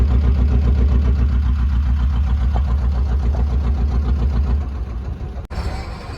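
A fishing boat's diesel engine runs with a steady, loud, low thumping idle that eases slightly toward the end, followed by a sharp click.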